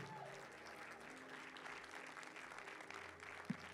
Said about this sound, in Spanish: Un fuerte aplauso al Rey de Reyes.